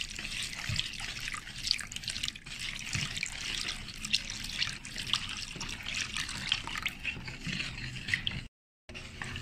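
Milk poured slowly into a bowl for semolina steam cake batter, a close continuous trickle with dripping and splashing, briefly cutting out near the end.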